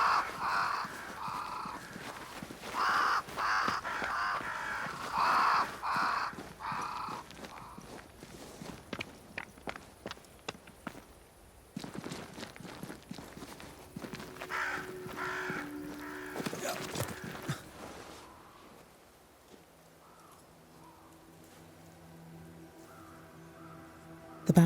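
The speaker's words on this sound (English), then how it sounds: "Crows. They flock to that great tree up there." Crows caw repeatedly in a Banishers: Ghosts of New Eden video game scene near a great tree, harsh calls rising over steady footsteps crunching along, fading to quiet game ambience at the end.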